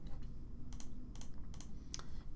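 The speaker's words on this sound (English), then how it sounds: "So I'm just gonna do Control 1" Keys on a computer keyboard are pressed in a quiet series of soft clicks and taps, several distinct strokes spaced over a couple of seconds in a calm indoor room.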